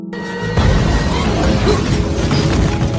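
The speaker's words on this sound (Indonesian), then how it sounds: "tabung gas penyembur api pun bocor yang menimbulkan ledakan" A leaking flamethrower gas tank explodes in the horror film The Thing, with a sudden loud blast after a brief quiet start that becomes a sustained roaring, crackling rumble and holds steady to the end.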